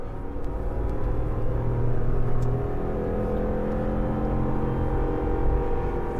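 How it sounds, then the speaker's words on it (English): A Lexus GX460 engine pulls hard up a big hill in a low gear, a steady loud droning rumble with rising whir that holds throughout, heard from inside the cabin with no talking. "Listen to this engine."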